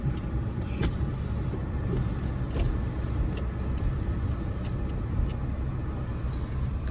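A car's engine runs steadily, heard from inside the vehicle in a Kullu village, as a constant low hum and rumble with a few faint clicks and no talking.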